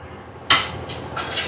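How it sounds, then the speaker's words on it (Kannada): Dishes are washed by hand at home, with scraping and clinking of utensils in a short close burst after a quiet start. "ಪಾತ್ರೆ ತೊಳೆಯೋದ?"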